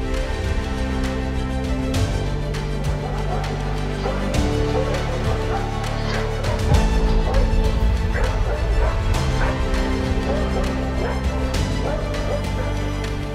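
Two German Shepherds bark and yip repeatedly while chasing a burglar from a house, over a steady, busy background, the barking mixed with whimpers and fairly close.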